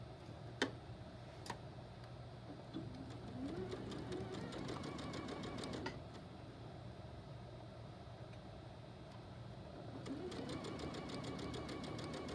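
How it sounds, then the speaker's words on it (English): A sewing machine stitches fabric cut on the bias, giving a faint, steady rapid ticking that runs continuously with occasional light clicks. "You just want to let the sewing machine do the work."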